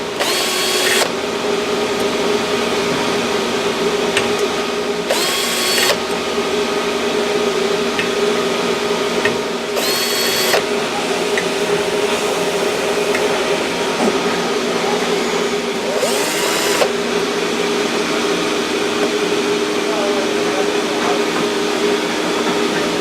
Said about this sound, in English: Go ahead and grab your drill, and what you're going to need here is a T25 star bit